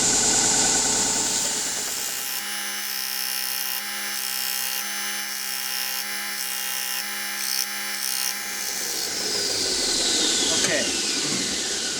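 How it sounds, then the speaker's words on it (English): A belt sander roughs and smooths the edges of a small wooden base, a loud whirring drone that rises in pitch as the workpiece is lifted, with a voice briefly speaking over it. "we want to make the edges rough by using the edge of the belt sander"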